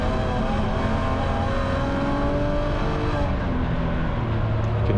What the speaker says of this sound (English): You can hear the tires.